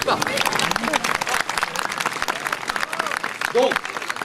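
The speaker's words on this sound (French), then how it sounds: "C'est pas très bien, mais vous pouvez quand même applaudir." An audience applauds at a medieval European historical martial arts demonstration, a dense burst of crowd clapping that runs the whole moment, with voices heard over it.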